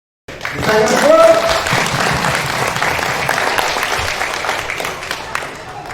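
Sustained applause from a crowd at a local film workshop in Pamekasan, Madura, loud and steady for several seconds, with a voice briefly audible over the clapping near the start.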